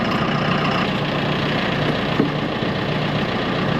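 A John Deere tractor engine idles with a steady, low, rumbling drone, close by and unchanging over a few seconds, with no talk.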